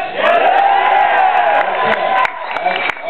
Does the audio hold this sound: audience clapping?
yes